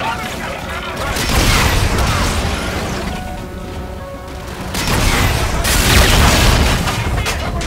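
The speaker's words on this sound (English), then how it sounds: "Okay, rocket launcher." Rocket launcher fire in the PlayStation 4 game Call of Duty: Infinite Warfare: two heavy, rumbling booms a few seconds apart, each swelling and lingering loudly amid ongoing battle noise.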